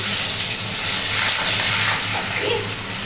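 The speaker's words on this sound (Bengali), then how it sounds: "দিয়ে দিচ্ছি একটু আদা ফোড়ন" Ginger tempering in hot oil, a loud broad hiss and steamy sizzle held steadily close up, with a faint voice briefly in the background.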